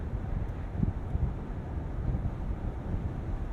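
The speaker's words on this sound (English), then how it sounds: "The wind buffeting that we're experiencing here at these speeds is incredibly modest." Faint, steady wind rush with low buffeting gusts inside a 2023 Mercedes-AMG SL 63 roadster driving at speed, soft and continuous with no talk.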